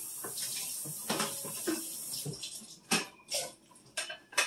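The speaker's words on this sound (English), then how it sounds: "Rinse off my board because I want to cut up some garlic." Running tap water rinses a cutting board in a home kitchen, a faint irregular splashing with a few sharper clatters of the board against the sink, with no talking.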